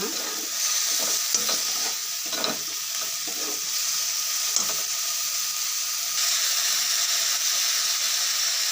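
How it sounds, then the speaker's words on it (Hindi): Garam masala, red chili powder, coriander powder and curry masala get stirred into a pointed gourd and paneer curry in a pan, with a soft steady sizzle under repeated scraping spoon strokes. "गरम मसला, रेड चिली पाउडर, धनिया पाउडर और करी मसला इसलिए मैं सब अभी दे लेंगे। बहुत मिक्स करना है।"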